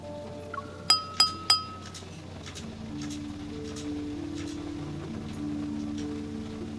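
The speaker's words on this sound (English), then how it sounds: "the crisp sound of clinking glasses captures everyone's attention" Glasses clink at a banquet in a video game, three bright ringing chinks in quick succession, close and clear, followed by a low sustained musical backdrop.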